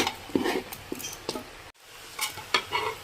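Avial, a vegetable curry with ground coconut paste, is stirred in a pan, producing repeated scraping and clinking strokes over a soft sizzle, with a brief pause midway and no talking.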